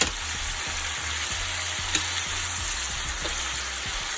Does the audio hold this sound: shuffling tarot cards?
no